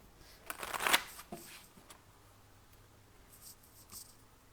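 A deck of oracle cards is shuffled for a full moon reading: one brisk, fairly loud riffle, then quieter card handling and soft shuffling nearby.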